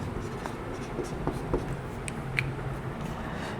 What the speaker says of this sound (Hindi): इसका गुण लिखते हैं हम लोग, गुण